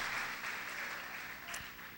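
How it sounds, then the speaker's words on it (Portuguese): Church congregation applauding during an evening communion service, a soft, steady patter of many hands clapping, distant and fairly faint, continuing evenly. "Vamos dar uma salva de palmas a Jesus por causa disso."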